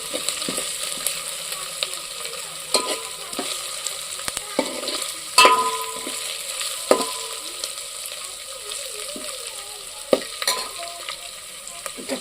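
Freshly picked curry leaves crackle and sizzle in hot oil as they are stir-fried in a pan, with a spatula scraping and clinking at intervals over a steady frying hiss.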